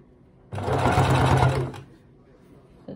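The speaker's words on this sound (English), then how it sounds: "You're just top stitching all the way" A sewing machine top stitching a duffle coat runs in one loud, steady burst of rapid needle hum for about a second and a half, then stops and leaves quiet room tone.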